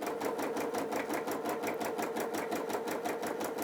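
Sewing machine running a long, steady gathering stitch with no reversing, its needle beating in a fast even rhythm throughout, close and continuous with no talk.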